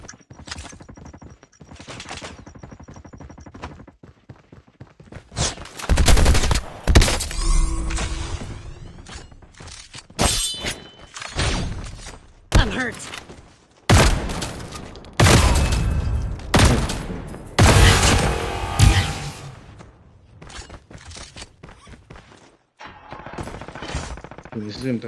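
Shotgun and other gunfire in a COD Mobile battle royale match, bursts of loud close shots and rapid volleys with booms and thuds, spread unevenly with quieter stretches between.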